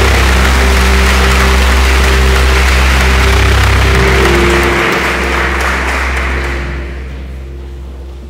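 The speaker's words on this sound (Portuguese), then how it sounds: "Pode aplaudir, porque é o Verbo" A church congregation applauds loudly over a steady low hum and sustained instrumental tones, the clapping holding strong and then thinning out toward the end.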